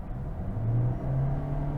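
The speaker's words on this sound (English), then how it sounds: "The engine just spools to a high rev and you take off" A 2024 fifth-generation Toyota Corolla Hybrid engine spooling up to high revs under hard acceleration, with a steady close drone that rises slightly in pitch, heard alone without talking.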